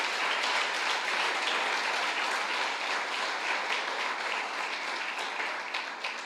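A church congregation claps together in sustained, dense applause that fills the room evenly from start to finish, with no voices rising above it.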